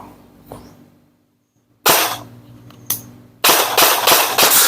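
An LDT HK416D electric gel blaster fires a few sharp single shots after quiet pauses, then a quick burst of several loud cracks in succession, close to the listener.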